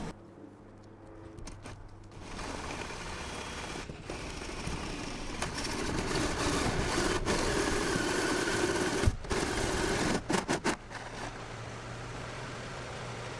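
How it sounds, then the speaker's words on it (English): A loud, steady grinding drone of a power drill with a hole saw cutting through a camper van's metal roof, with brief pauses and a few jolting catches near the end. "let's get a hole saw hole through there"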